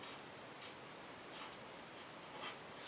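Marker strokes scratch across paper while comic art is drawn, a steady soft rasp broken by several brief brighter squeaks at regular intervals, close and fairly quiet with no talking.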